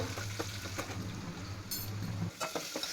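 Oil tempering sizzles in a pan for ajwain leaf rasam, a close, steady frying hiss with brief stirring scrapes and a short burst of crackle near the end.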